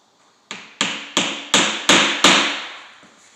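Six sharp mallet taps on a curved chisel cutting the rounded corners of a deadbolt mortise in a wooden door edge, evenly spaced and growing slightly louder, each ringing briefly before the next.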